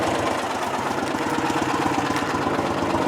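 A Briggs & Stratton engine on a John Deere lawn tractor runs steadily at a close, even idle, with a constant chugging rumble and no speech over it.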